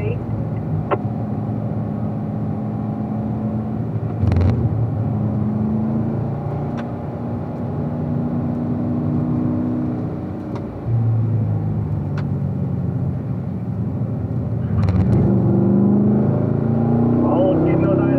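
A car engine pulls hard through the gears on a track, revving up toward 5500 rpm with shifts between; a steady loud drone with pitch sweeps runs throughout while a coach's voice talks over it.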